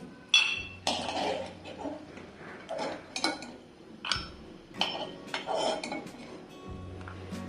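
Fried peanuts, reddened in hot oil, are scooped from a pan into a bowl while making rava upma. Repeated sharp metal clinks and scrapes of a spoon against cookware come in irregular bursts with short quiet gaps.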